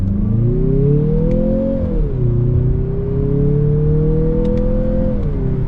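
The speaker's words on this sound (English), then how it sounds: "with that in sport mode, let's test out this acceleration from first gear" A 2026 Mazda CX-50 turbo crossover accelerates hard from first gear in sport mode, its engine note climbing steadily in a loud, continuous rev, dipping briefly at a gear change, then rising again before easing off near the end.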